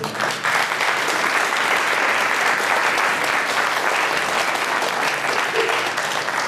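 An audience at an intergenerational project gathering claps steadily and densely, with the applause sustained and loud throughout and no pauses.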